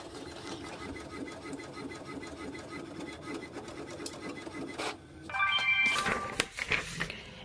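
Inkjet printer running a shipping label job with a dry ink cartridge: continuous mechanical whirring and rubbing of the print head carriage, steady and close, ending in a few louder clunks and rattles.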